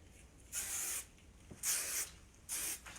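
Three short bursts of aerosol dry shampoo or hairspray misted onto hair, each a steady hiss of about half a second, fairly close, separated by quiet pauses with no talking.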